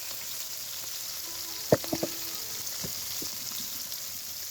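Hilsa fish frying in a hot pan with eggplant, a steady faint sizzle marked by a few brief sharper spits and crackles partway through.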